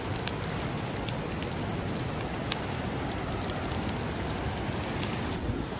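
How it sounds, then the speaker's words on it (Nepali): Steady rain falls in cloud-covered mountains near Mustang, Nepal, a dense, even hiss of drops on surfaces that continues unbroken throughout, with no voices. "कसरी पानी लाग्यो"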